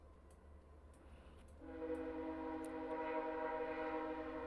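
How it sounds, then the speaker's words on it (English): A train passes outside. Its steady, droning rumble and a sustained horn-like tone rise about partway through, then hold at moderate volume with faint ticks over quiet background hiss. "Train going by."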